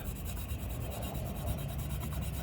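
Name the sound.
scrubbing exhaust part with Bar Keepers Friend cleanser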